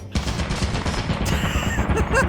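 Rapid automatic turret fire in the video game Lethal Company, a dense loud burst of shots that keeps going without a break, nearly alone.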